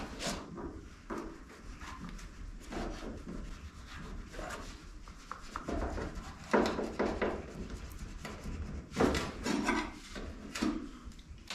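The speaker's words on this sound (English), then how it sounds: "I'm going to take my putty knife here, and we're going to remove this trim." Repeated scraping and prying sounds of a metal putty knife removing wood trim, with rubbing strokes and occasional louder cracks, close up and without talk.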